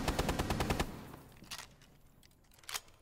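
Automatic gunfire in Rainbow Six: a fast burst of evenly spaced shots up front, then a fading tail and two more isolated reports, with no voices.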